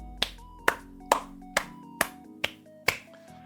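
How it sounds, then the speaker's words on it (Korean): Slow, evenly spaced hand claps, seven sharp crisp strikes about half a second apart, close and isolated over a faint steady tonal background. "와, 박수 한 번 더."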